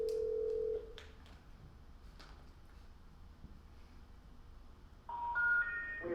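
Dialing of a home phone number on a telephone during a council meeting: a held tone, then several short separate beeps spread out, ending in a rising sequence of tones at the close.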